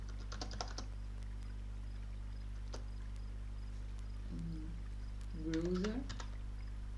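Short bursts of computer keyboard typing, a few quick clicks near the start and another cluster later, over a steady low hum, while someone speaks briefly between them.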